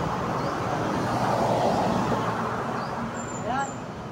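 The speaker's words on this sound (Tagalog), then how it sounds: "Pasada ng tricycle." A tricycle passes on a road during the afternoon before a Holy Saturday vigil mass in Gumaca, Quezon, a steady broadband traffic rumble with a faint engine hum throughout.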